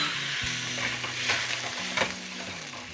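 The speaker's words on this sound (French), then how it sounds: "Et je vais faire saisir tout doucement et compoter mes cubes de potimarron" Potimarron squash cubes with a little salt and water sizzle gently in a pan over lowered heat, a soft continuous frying hiss with occasional stirring scrapes.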